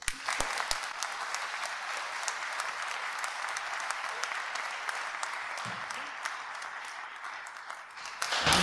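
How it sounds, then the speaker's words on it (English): A live audience at a podcast event gives a rousing round of applause for a guest, a dense and steady wash of many hands clapping that swells louder near the end. "I would be delighted if you would give a rousing applause to Michelle."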